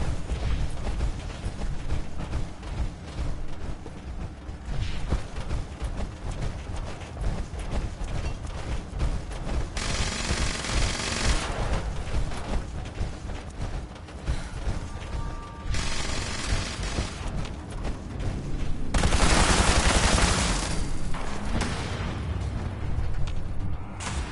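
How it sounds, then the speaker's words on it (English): Gunfire and booming combat from Fallout 76 keep going with no break, broken up by loud bursts and blasts and a stronger flare of noise near the end. "Stealth is key, and I start shooting right away."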